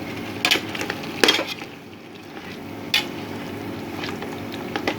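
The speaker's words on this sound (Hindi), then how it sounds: "लहसुन अदरक भी इसी में भूनेंगे" Garlic ginger paste fries in a pot for chicken pulao, giving a low steady sizzle with a few sharp scrapes and clinks of a spoon against the metal.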